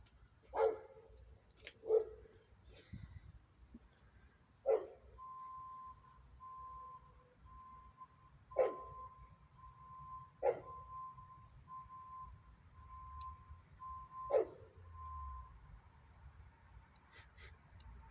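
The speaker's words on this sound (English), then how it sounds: "Dog's barking." A dog barking in the background near a model-building desk, about six sharp separate barks spaced several seconds apart, moderately distant, with a steady electronic beep tone partway through.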